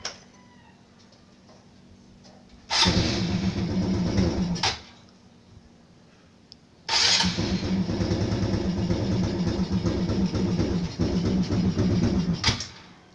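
An Aprilia RS 125 motorcycle engine fitted with a turbo sound booster idles low, then roars loudly in two long bursts of a few seconds each, with a steady buzzing drone between them.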